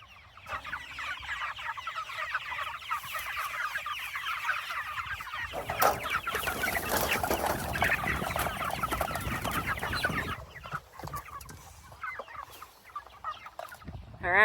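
Many meat chickens cluck and chatter close by on a small farm, growing busier in the middle before settling, with a louder burst at the very end.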